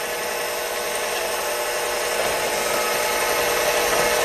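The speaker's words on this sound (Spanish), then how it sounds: "Y seguimos batiendo sin parar de batir para que no se nos bajen las claras al incorporar las yemas" An electric mixer beats egg whites while egg yolks are folded in one at a time for shrimp fritters, a loud, unbroken, buzzing whir with a faint scraping texture and no talking.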